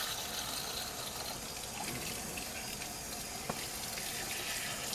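Warm water runs steadily from a tap during a hair-salon curl application, a constant even gush that holds for the full five seconds at moderate distance, with no talking.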